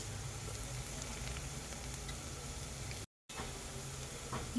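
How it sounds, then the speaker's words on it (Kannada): Vegetables fry in a pan for almond soup, giving a continuous, close crackling sizzle that cuts out briefly once before resuming at the same level. "ನೋಡಿ ಎಲ್ಲ ಎಷ್ಟು ಚೆನ್ನಾಗಿ ಫ್ರೈ ಆಗ್ತಿದೆ"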